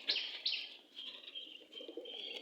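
An Australian dove coos softly and faintly in a small backyard enclosure, with a few short call bursts at the start and other birds chirping quietly around it.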